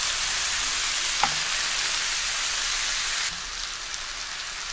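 Tomatoes dropped into brinjal frying in a pan, a continuous hissing sizzle with a small splash as they land, then the sizzle shifts and softens slightly, close with no talk.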